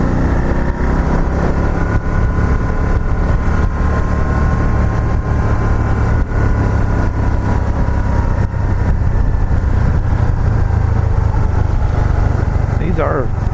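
A Can-Am Spyder three-wheel motorcycle on a test ride after a wheel swap, its engine droning loudly and steadily along with road and wind rush throughout.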